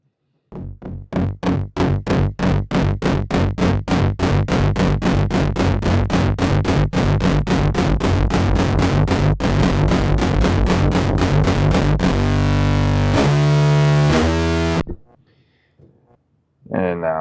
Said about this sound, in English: So we're going to start bringing up the distortion now.